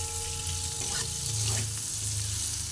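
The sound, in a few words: potatoes stirred and frying in pan with Kashmiri chili powder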